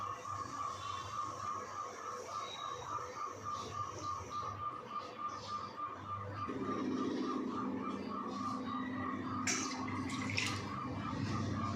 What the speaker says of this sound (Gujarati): હવે આપણે વટાણાને ઉકળવા મૂકી દઈશું। તેમાં આપણે 1/2 કપ જેટલું પાણી ઉમેરશું।